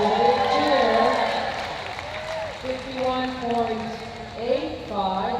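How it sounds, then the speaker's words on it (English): Crowd cheering at the UKI US Open dog agility final, spread-out shouts and applause in a large arena, moderately loud, under an announcer's voice. "a big cheer"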